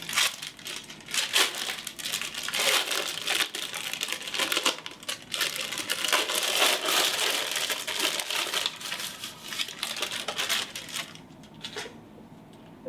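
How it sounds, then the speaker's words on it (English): Crisp, irregular crinkling and crackling as the packaging of a sterile surgical gown is carefully opened by its corners, a close, busy rustle that continues for several seconds before tapering off. "you need to carefully open up this gown, just touching the very corners"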